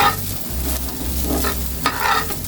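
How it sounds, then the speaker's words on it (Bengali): Cooked pulao rice being stirred into vegetable fried rice in a hot pan, with a brief spatula-scraping and tossing sound over a light sizzle, close and without talk. "নেড়ে চেড়ে ভালো করে এটাকে মেশাতে হবে"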